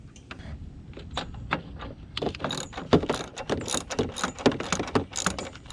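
Hand ratchet backing out 10 mm bolts on a 2002 Cadillac Escalade during AC condenser work, heard as rapid, close clicking bursts that come quicker and louder in the second half, with no voices.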